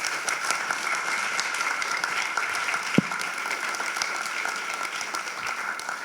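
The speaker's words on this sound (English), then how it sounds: "Everyone, give a round of applause, please." A room of listeners gives sustained applause at the end of an urban planning talk about parking, an even, dense clapping that continues throughout with one brief thump partway.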